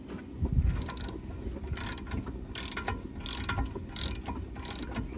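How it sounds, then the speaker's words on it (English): A ratcheting wrench tightens the lock nut on a Mantus anchor, giving about six short bursts of rapid metallic clicking at a steady rhythm, close and fairly quiet. "So holding from the top and tightening from the bottom again."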